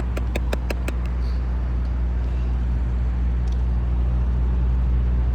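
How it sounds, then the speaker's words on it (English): Heavy northbound car traffic on Pacific Coast Highway at Narbonne Avenue in Lomita rumbles continuously nearby, with a few sharp clicks at the start and a brief faint hiss midway. "Northbound has a lot of cars."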